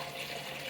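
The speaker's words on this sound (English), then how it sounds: "Excuse the splashing noise" Water splashing and running while new homebrewing equipment, a hop filter, is cleaned, a steady close wash of liquid with no voices over it.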